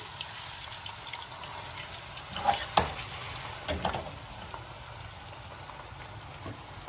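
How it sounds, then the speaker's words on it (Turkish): Potatoes fry in a second pan with a continuous, moderately loud sizzling hiss, broken briefly by a few louder stirring clatters near the middle. "İkinci bir tavada patatesleri kızartıyorum."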